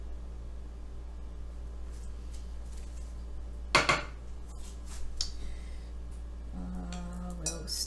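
Utensils scoop lavender out of a dish and stir lavender lemonade with mint and lemon slices, giving a few close clinks and scrapes, one sharp knock, then soft stirring over a low steady hum.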